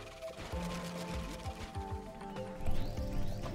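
Horse hooves in the video game Patch Quest: rapid uneven clip-clopping and thuds layered with game effects and a brief whinny-like cry, busy and close.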